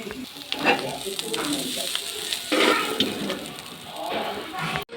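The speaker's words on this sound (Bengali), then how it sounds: "চিংড়ি মাছটা আর ভাজবো না, মানে একটু কালারটা চেঞ্জ হয়েছে" Shrimp sizzle and crackle in hot oil as they turn reddish, a close, busy frying hiss with bursts of stirring and a faint voice underneath.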